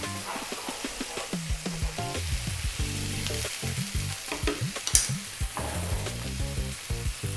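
Garlic ginger paste frying over high heat in a hot pan for a lamb bhuna curry, a loud continuous sizzle broken by the clatter of stirring and one sharp scrape.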